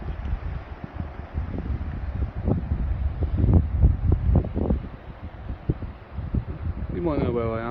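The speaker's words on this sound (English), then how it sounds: "It's so windy." Strong wind buffeting a riverbank on the tidal Trent, gusty rumbling microphone noise swelling and easing in bursts, with a voice speaking briefly near the end.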